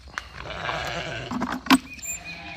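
Sheep bleat in a farm pen near a gate, several wavering calls over a background of faint livestock shuffling, with a brief sharp clank partway through.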